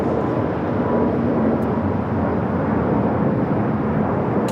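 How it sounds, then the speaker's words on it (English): A KLM Boeing 787-10 Dreamliner arrives at Los Angeles airport, heard as a loud, continuous broadband jet roar that holds steady throughout. "KLM 601 coming in from Amsterdam on the 787-10 Dreamliner"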